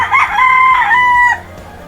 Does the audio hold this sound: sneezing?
no